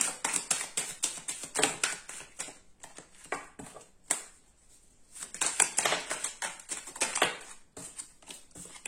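Playing cards are shuffled and tapped on a table during a tarot-style reading, a soft close series of rapid riffling and tapping bursts with a brief quiet gap in the middle.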